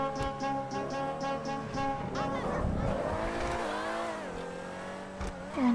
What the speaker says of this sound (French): On entend le turbo.